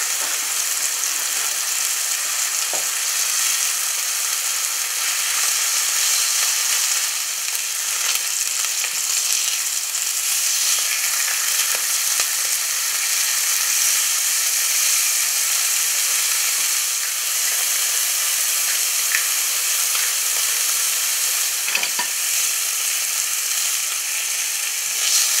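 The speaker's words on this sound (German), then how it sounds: "Aber zuerst braten wir erstmal die Putenschnitzel, die wir in die Hälfte geschnitten haben, beidseitig an." Halved turkey cutlets sizzle steadily in a hot pan, a loud, even frying hiss with faint occasional clicks and stirring, and no talk.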